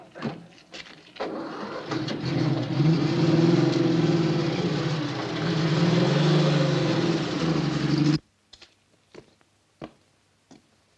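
A 1930s car rolling down a drive, a steady close engine hum with a slight dip and swell in pitch for about eight seconds, then cutting off to a few scattered knocks and footsteps.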